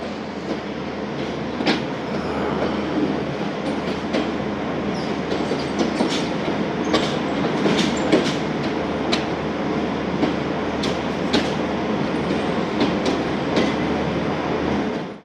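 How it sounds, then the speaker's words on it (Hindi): Jaffar Express train on Pakistani rails, a steady loud rumble of rolling wagons with repeated clickety-clack wheel knocks and occasional squeals, with no talk. "जाफर एक्सप्रेस अंडर शंट है। कुछ देर में ये भी रवाना हो जाएगी।"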